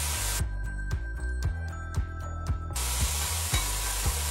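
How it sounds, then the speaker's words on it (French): Shallots browning in a hot pan, a steady bright frying sizzle with periodic rhythmic thumps, close and fairly loud, no talk. "Et maintenant l'objectif est de colorer les échalotes."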